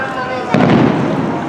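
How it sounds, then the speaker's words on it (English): Fireworks burst over Disneyland park beyond the trees near the Matterhorn, a single fairly loud boom followed by a rumbling, crackling decay, heard from a distance. "right over there we start seeing the first of the fireworks right over the trees"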